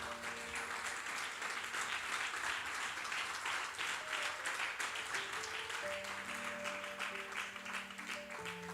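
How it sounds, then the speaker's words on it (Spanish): Sustained applause from a church congregation during a Spanish-language revival service, dense and steady throughout with organ or keyboard chords sounding underneath. "Dale un fuerte aplauso al Señor."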